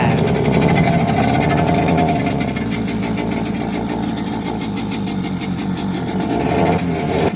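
A Suzuki 9.9 outboard boat engine idles close by after starting, a steady, loud mechanical drone with a fine rapid chatter that continues evenly without pause.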